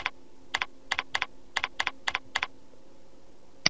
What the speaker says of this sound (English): Let's start off by typing in Citizen Kane.